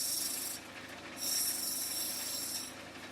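Steady grinding hiss of an opal being pressed against a fast-spinning 180 grit lapidary wheel. The abrasive rasp is continuous and fairly close, and it swells and eases as the stone is lifted and pressed back on. No talking.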